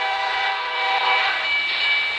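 A train in a video game sounds a sustained, bright horn that swells and holds over a faint rolling rumble, with no voices.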